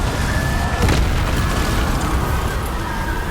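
A Confringo blasting spell exploding in Hogwarts Legacy, a loud booming burst near the one-second mark over a dense rumbling game soundscape, with no talk.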